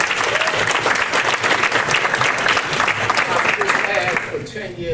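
An audience at a Hempstead Village community forum bursts into loud, sustained applause that fills the room, with voices mixed in, then tapers off near the end.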